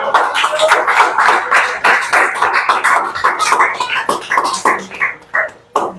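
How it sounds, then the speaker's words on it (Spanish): Church congregation applauding, loud rapid clapping from many hands with bright, sharp claps crowding together, steady for several seconds before thinning into a few separate claps at the end. "Denle un aplauso a Cristo."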